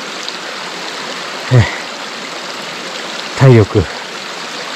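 A mountain stream, the Kuta River in snowy northern Kyoto in early February, rushes in a steady broadband wash throughout, with a few short bursts of a voice over it.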